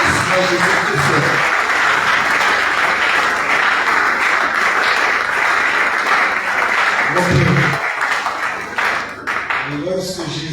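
A church congregation applauds and acclaims the Lord Jesus Christ, a dense, steady wash of clapping and voices sustained for about eight seconds before thinning out, with a few shouts rising through it.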